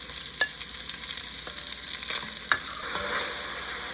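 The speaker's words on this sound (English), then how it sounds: "We want to sear all of the pork." Pork searing and frying in a pan for Thai braised pork, a soft steady sizzle with a few light stirring clicks and scrapes, close and fairly quiet, no talking.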